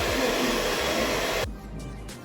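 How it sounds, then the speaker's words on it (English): An electric hand mixer beats sugar and eggs for cupcake batter, a loud steady motor whir that runs continuously, then softens and changes pitch for the last second as the beaters shift. "So we are beating the sugar and eggs together."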